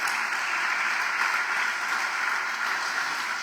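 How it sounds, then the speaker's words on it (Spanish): Church congregation applauding the Lord after a sermon line, a dense, even wash of many hands clapping at steady loudness throughout, with no talking over it. "Dale ese aplauso al Señor ahí."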